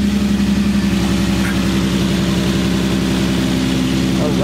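An Infiniti G35 engine idling close by, a steady low, even throb with a constant pulsing rhythm that holds unchanged throughout.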